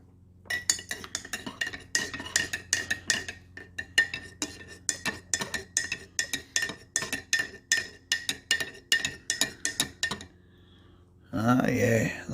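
A spoon clinks rapidly and steadily against a cup while stirring freshly brewed Don Francisco's Kona Blend coffee from a K-Cup, close and bright, about twenty quick taps before stopping, followed by a brief rustle.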